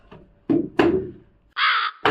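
A crow caws loudly and close by, giving a short run of harsh, separate calls with brief gaps between them.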